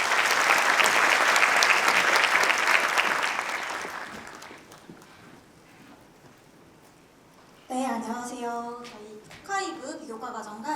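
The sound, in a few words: audience applause welcoming a speaker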